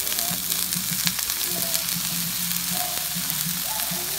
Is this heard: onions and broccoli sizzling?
yes